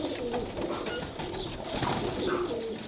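A pigeon coos faintly in low repeated murmurs among other birds, with no one speaking.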